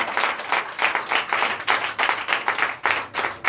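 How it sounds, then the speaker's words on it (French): A congregation at a Sunday church service in Benin claps together in a steady, rhythmic beat, many hands striking at once with slight irregular applause filling the room. "Oui, donnez l'acclamation à Jésus."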